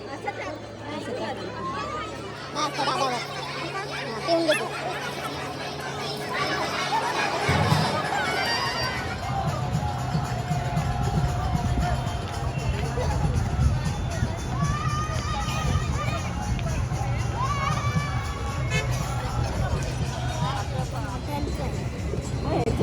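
A dense crowd at a Champa Shashti temple festival in Nashik fills the scene with continuous chatter and babble, children shouting now and then, and nearby voices talking over the steady hubbub.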